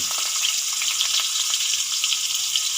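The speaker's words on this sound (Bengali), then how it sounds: "এই তেলের মধ্যে আমি দিয়ে দেবো ডুমো ডুমো করে কাটা আলু" Diced potatoes fry in hot oil with a steady, close, bright sizzle that crackles continuously throughout, with no talking.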